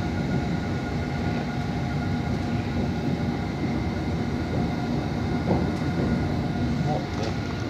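London Underground Hammersmith and City line train running on the westbound track toward Wood Lane, a loud continuous rumbling roar with steady wheel and motor noise heard from onboard, with faint clicks and no clear talk.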